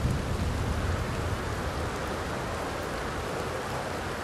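Rain falls in the video game Red Dead Redemption 2, a steady, dense hiss of downpour with a low thunder rumble underneath, loud and continuous with no talking.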